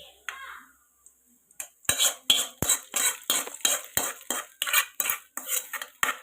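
Metal spoon scraping and clinking rhythmically against a pot or bowl while fried tempering is stirred into boiled vermicelli for curd semiya, a quick run of about a dozen sharp close strokes after a quiet start.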